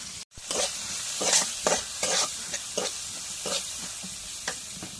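Onion, chili and dried fish sizzle in hot oil, with a spatula scraping and stirring in a steady rhythm of scrapes over a continuous fry, close and fairly loud.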